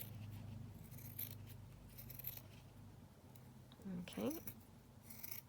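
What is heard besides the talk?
cutting a piece down with scissors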